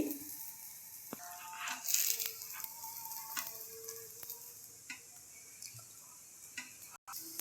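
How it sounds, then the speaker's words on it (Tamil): Chapati cooking on a pan until browned on both sides, a faint, steady sizzle with scattered soft ticks and light crackles, quiet and close, without talk. "இப்போ சப்பாத்தி நல்லா வேகட்டும்"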